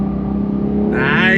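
Engine of a 2022 Porsche 911 GTS with rear-wheel steering, swelling into a louder rev as the car swings through a tight 180-degree U-turn, heard close and steady.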